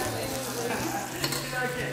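A generous amount of garlic sizzles and crackles steadily in a hot pan while being stirred, with a constant frying hiss and a brief clink near the middle.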